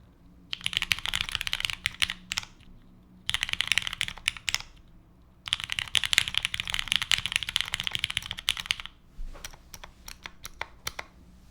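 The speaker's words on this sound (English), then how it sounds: "First type test of the week." Fast bursts of typing on a Wind X80 prototype mechanical keyboard with GMK Beta keycaps: dense, close clacking in three long runs separated by short pauses, then scattered single keystrokes at the end.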